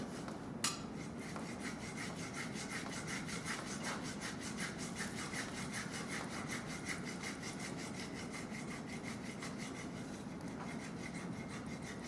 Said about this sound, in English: then we're going to go to burnishing